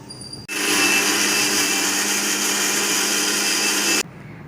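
An electric mixer-grinder runs loud and steady for about three and a half seconds, grinding garlic cloves with red chilies in a home kitchen, starting and stopping abruptly with a high whining motor tone.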